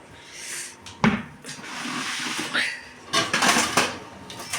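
A large plate being lifted and set among other dishes at home, with clinks and clatters of plates and cutlery in short bursts, fairly close and moderately loud.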